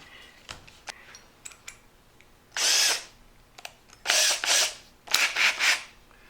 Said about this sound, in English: I'm going to drill a nice deep hole there.